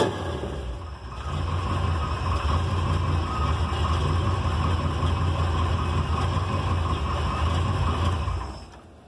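A carbureted engine idles steadily after a cold start, a continuous low rumble with an even mechanical chatter, close and loud throughout before tapering off at the end.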